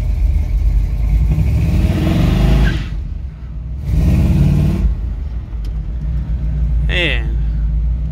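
A 1993 Chevrolet S10 pickup with a swapped V8 rumbles close by as it pulls away, its deep engine note rising and then easing off, with a brief high squeak near the end.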